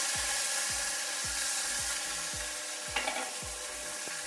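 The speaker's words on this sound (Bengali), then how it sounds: "ধনিয়া পাতাগুলো একটু ভেজে নিচ্ছি।" Coriander leaves frying in hot oil for a traditional Bengali molonti small fish curry, with a steady bright sizzle and repeated low scraping stir strokes about every half second, close and continuous with no talking.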